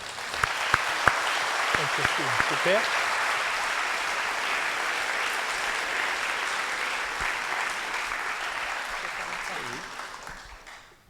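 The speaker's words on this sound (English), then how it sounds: "you can give a big clap" Conference audience in an auditorium gives a long, steady round of applause after a plenary talk on island biology, with someone briefly speaking over the start of the clapping.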